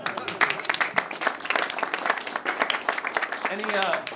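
Audience applause and clapping at a live talk on regenerative sustainability, a dense patter of many hands that holds steady throughout, with a voice and brief sung or drawn-out tones rising near the end.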